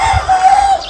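A loud rooster crows close by on a poultry farm, one sustained call lasting under a second.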